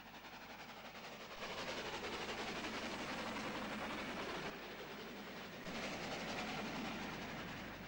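A steam locomotive, a Black 5, runs south with a fast loose-coupled freight train on a falling gradient, its steady roar and wheel rumble loud and continuous with no talk.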